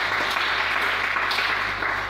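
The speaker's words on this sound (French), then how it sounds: "Est-ce qu'on peut acclamer le Seigneur?" A church congregation applauds and cheers to acclaim the Lord, a dense, even wash of clapping that holds steady for a couple of seconds before tapering slightly, with a low hum beneath.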